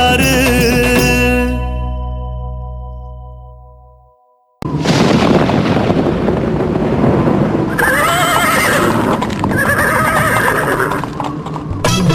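A horse whinnies loudly and the neigh fades out, then hooves clatter and thud amid booming, busy noise.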